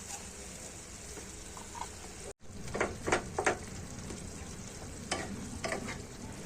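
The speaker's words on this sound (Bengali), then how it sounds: "তরকারিটা এবারে ফোড়ন করে নেব।" Spices temper in hot oil in a pan for a telakucha leaf curry, a steady quiet sizzle with a few louder stirring scrapes breaking through, heard alone without talk.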